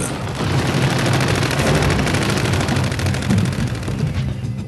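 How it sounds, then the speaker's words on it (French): Dense, continuous German machine-gun fire during the Battle of the Bulge, loud and rapid, the bursts blending into a rattling roar that barely lets up before easing slightly at the end. "Et j'ai entendu les mitrailleuses allemandes."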